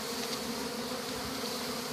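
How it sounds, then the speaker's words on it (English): A dense swarm of bees buzzes steadily and close as the bees are dropped into a box, a constant loud hum with no breaks and no talk. "when I'm dropping the bees"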